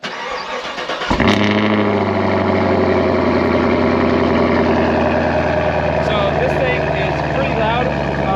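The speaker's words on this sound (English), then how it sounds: "Let me give you guys a cold start of this real quick because it does have dual mode exhaust" A 2022 Chevy Camaro 1SS V8 with dual mode exhaust cranks in a cold start and roars to life about a second in, then settles into a loud, steady, rumbling idle that stays close and continuous.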